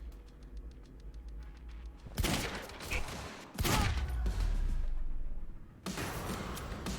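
Gunfire crackles in the Quantum Break shooter game, with loud bursts of rapid shots breaking out in three separate volleys over a low, rumbling background.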